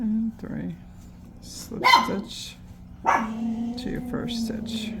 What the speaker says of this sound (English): Sorry, I do apologize for the barking